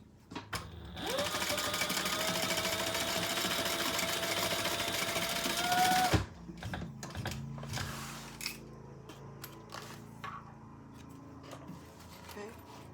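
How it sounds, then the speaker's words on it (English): A sewing machine stitches the seam of a leather sling's lining, running steadily and loud for about six seconds before stopping, after which faint handling clatter and rustling follow. "we're going to stitch that together at the seam allowance in the pattern"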